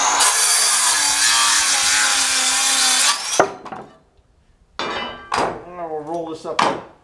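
A saw trims the checked, dried-out end off a wooden board: a loud, steady cutting roar for about three seconds, then quiet, followed by a few shorter rasping bursts close by.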